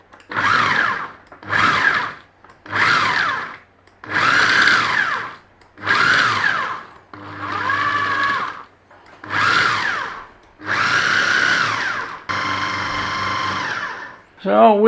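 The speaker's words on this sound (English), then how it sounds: "We're going to blend it up, nice and straightforward" Blender pulsing walnut pesto: about eight short, loud whirring bursts in a steady rhythm separated by brief pauses, then a longer run and a final short pulse.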